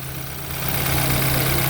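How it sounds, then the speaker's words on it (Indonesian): BMW F30 engine idling nearby with a steady low hum and faint rhythmic vibration, rising slightly in level as it settles, no voices. "Barokah, ini udah nyala engine-nya."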